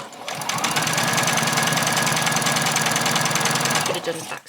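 A sewing machine stitches around the edge of a fabric bag in one loud, close, continuous burst of rapid needle hammering. It runs for about four seconds, then stops.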